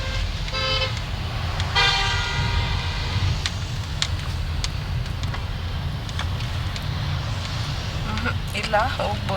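A vehicle climbs the winding Arabail Ghat road in the Western Ghats near Yellapur during the monsoon, with a couple of short horn honks early on over steady road and engine rumble while people talk throughout.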